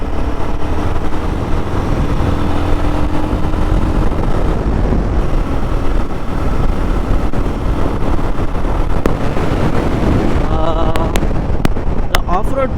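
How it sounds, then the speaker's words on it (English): Royal Enfield Guerrilla 450 motorcycle cruising at speed with a steady, loud engine drone and heavy wind rush, the pitch shifting as it downshifts near the end. "Cruising on good speeds. Downshifts also are good."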